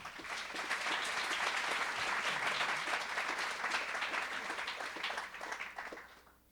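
Audience applause welcoming panelists to a discussion on CRISPR gene editing: a full room claps steadily for several seconds, then fades out at the end.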